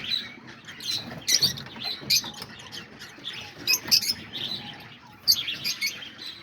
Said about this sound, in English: There's the parakeets right here, the budgies.